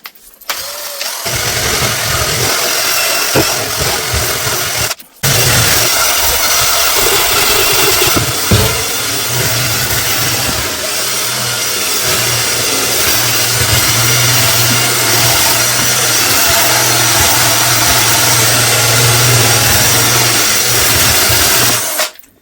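A power drill spinning a Holikme brush attachment against a dirty bathtub makes a loud, continuous whirring drone with scrubbing noise, cutting out briefly once before running steadily to the end.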